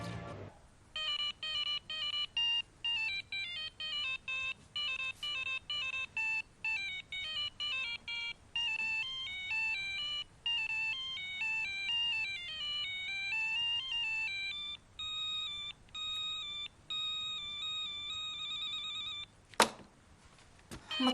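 A mobile phone rings insistently with a bright electronic melodic ringtone looping for about twenty seconds, moderately loud and alone, ending with a brief sharp click.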